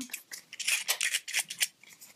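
A utility knife slices through paper for a handmade vintage card, giving a run of short, crisp scraping strokes in an irregular rhythm, close and clear with no talk.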